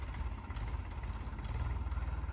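A Ford 3600 tractor engine idles to warm up, a steady low rumbling drone with a regular pulsing throb, continuous and moderately close.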